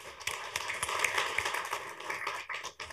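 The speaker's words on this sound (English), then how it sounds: "Give her a round of applause." Steady applause from attendees at a county commissioners meeting, a dense wash of clapping sustained for a few seconds in a large room.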